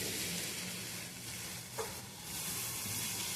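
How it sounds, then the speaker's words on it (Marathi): Pathri wild greens cook on a wood-fired stove over low heat, giving a soft, steady sizzle with a faint stirring scrape partway through. "चुल्यातनं हलवून घ्यायची आहे बघा"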